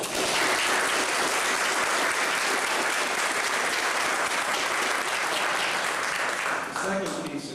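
Sustained, dense audience applause fills a hall at a transit awards ceremony in Detroit, steady and loud before tapering off near the end as a voice begins under it.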